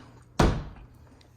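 A pantry door in a new-build two-story Las Vegas home swings shut with a single close, solid thud that decays quickly into quiet room tone.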